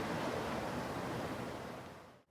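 Gentle waves of Lake Ontario lap on the shore on a morning along the waterfront near Cobourg, a steady, soft broadband wash that fades out at the end.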